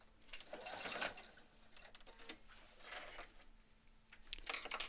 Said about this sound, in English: Oh, and I stitched right through the care tag.